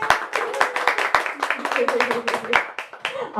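Live audience applause at a book release reading for a poetry collection, with bursts of hand claps layered over a loud, continuous wash of clapping and some voices mixed in.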